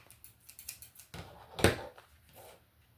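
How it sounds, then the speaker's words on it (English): Scissors snip the corner off a paper notebook cover in a quiet room, with a few faint rustles and then one sharp, close cut. "I'm just going to trim this corner off."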